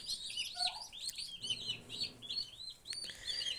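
Small chicks chirp with high, rapid peeps in a steady, continuous chorus, heard close together in a home poultry setting alongside young turkeys.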